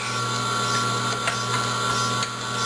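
An Omega 8003 auger juicer grinds tomatoes with a steady mechanical whir and ratcheting churn, close and continuous, with a few brief clicks and no talking.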